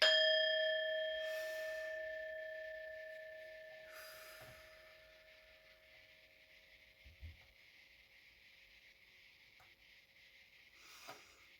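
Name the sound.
bell rung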